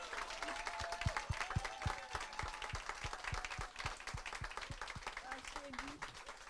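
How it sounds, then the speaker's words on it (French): Audience applause for an event organiser at a visibility summit in Paris, a dense steady patter of many hands clapping throughout, with a voice briefly audible underneath. "je vous demande un tonnerre d'applaudissements"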